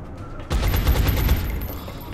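A burst of rapid gunfire erupts in an XCOM turn-based strategy game, a loud dense volley of overlapping shots starting abruptly and sustaining with continuous rumbling crackle for about a second and a half.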